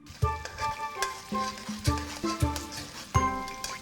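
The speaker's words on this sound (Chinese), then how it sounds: "下入姜末、小米椒翻炒" Minced ginger and bird's eye chillies stir-fried in hot oil in a wok, bursts of sizzling with clinking, scraping spatula strokes in an uneven rhythm, close by and without talk.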